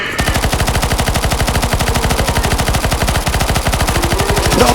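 Rapid, continuous automatic gunfire in the video game Counter-Strike: Global Offensive on a zombie escape map, loud and close with an evenly spaced rattling rhythm that runs nonstop for nearly five seconds, with no talk over it.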